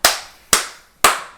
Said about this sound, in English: You can do the clap of God if you want to